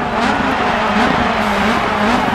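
A DiRT 4 rally car engine drones loudly and steadily up close, a constant throaty roar with slight pitch wavering, no voices heard.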